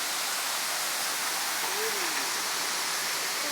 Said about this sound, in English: The Cascada La Coca Falls.